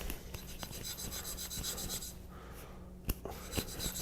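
A rough rust eraser scrubs back and forth across a Naniwa diamond sharpening stone, making a steady, close raspy rubbing with repeated strokes and a few sharper clicks near the end, no voices.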